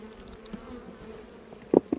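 Honeybees buzz at an open beehive during spring inspection, a steady close-up hum with a couple of brief louder thumps near the end.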